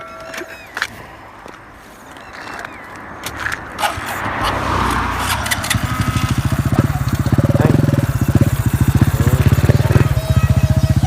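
Honda-style 110i small motorcycle with a small-bore build idling and then pulling away, its engine becoming a loud, rapid, putting drone close by, with a voice briefly at the start.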